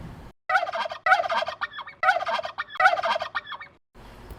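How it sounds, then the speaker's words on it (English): A turkey gobbles in repeated loud, rapid rattling bursts, four close gobbles separated by short pauses, with no other sounds around them. "turkey"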